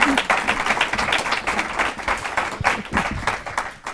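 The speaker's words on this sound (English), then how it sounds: "How about a round of applause for our speaker tonight, Twila Brase." Audience applauding for an evening speaker at a talk, dense steady clapping from a crowd that swells and fades over four seconds with no voices.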